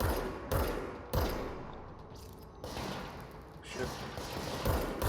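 Gunfire in a video game: several loud, punchy shot bursts spaced a second or so apart, with rapid crackling fire between them, mixed under a voice talking.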